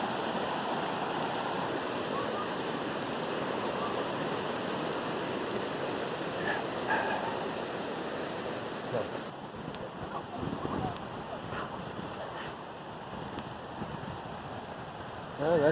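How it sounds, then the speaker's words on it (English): A swollen mountain creek in the Great Smoky Mountains rushes steadily downhill, a moderate continuous roar of water with some wind and faint background noise. "that's the most water I've seen on that little creek too, coming down"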